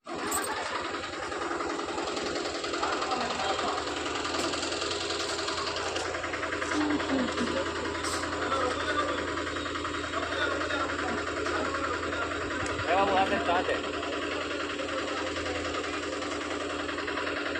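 Train with a double engine, two locomotives coupled together, running steadily with a continuous mechanical drone and rattling vibration heard from onboard, loud and unbroken throughout.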